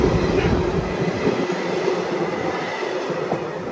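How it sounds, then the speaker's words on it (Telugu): A passing train rolls along the tracks with a steady, loud rumble and rattle of wagons, heard close from aboard the Flying Ranee Express on the Surat to Mumbai line, with no voices. "ఇదిగోండి వెళ్ళిపోతుంది ట్రైన్"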